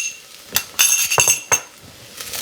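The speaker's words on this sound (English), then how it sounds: "Give that a good stir" A utensil stirs garlic cloves and soft brown sugar into onions and green peppers in a pot, giving a few sharp metallic clinks and scrapes against the pot's side, spaced irregularly over a quiet background.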